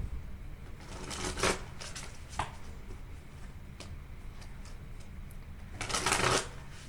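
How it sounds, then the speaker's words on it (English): Quick riffling bursts of tarot cards being shuffled close by, the first lasting about a second, a soft tap after it, and another flurry near the end, with no speech over it. "Let me pull you one of these cards."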